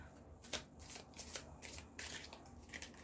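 A deck of tarot cards is shuffled by hand at close range, with several quick riffling bursts and soft slaps of cards being drawn, quiet and with no talk.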